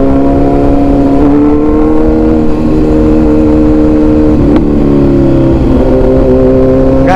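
A Kawasaki Z900 motorcycle and a Splendor bike riding side by side in a street race, engines droning loudly and steadily with shifting tones as they rev and accelerate close by, and no talk heard.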